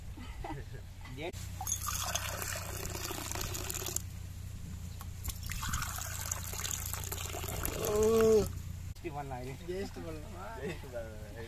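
Nannari and lemon sarbath juice is poured into a glass in two steady, splashing streams, followed by people talking nearby.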